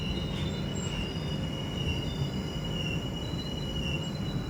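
The diesel-hauled Narkher–Kacheguda Intercity Express 17642 rolls onto a loop line at a junction. Wheels rumble steadily with a thin, sustained squeal from the rails, loud and close, with no talking.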